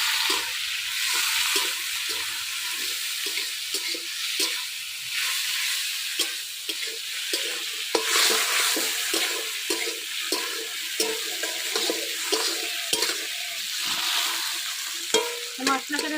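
Chopped tomatoes sizzle in a pan with fried onions, a loud steady frying hiss punctuated by repeated spatula scrapes and knocks, without speech.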